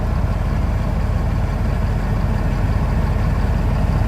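A Caterpillar ACERT diesel engine idles in a big truck with a deep, steady, even rumble. It is loud and close, never changes pitch, and has no voices over it.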